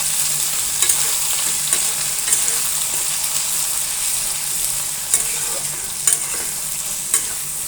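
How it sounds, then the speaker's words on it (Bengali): Dried chela fish frying with onion and chili in a pan, a constant soft sizzle broken by regular clicks and scrapes of a stirring spatula. "পেঁয়াজ মরিচ হালকা ভেজে নিয়ে শুটকিগুলো হালকা করে ভেজে নেব পেঁয়াজ মরিচের সঙ্গে"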